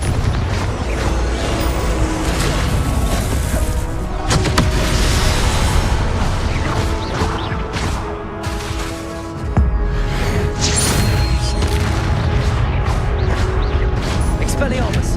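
Confringo blasting spell explosions and crashing impacts in the game Hogwarts Legacy, loud dense booms and smashing debris running continuously, briefly dipping before another heavy blast, with a voice speaking over parts.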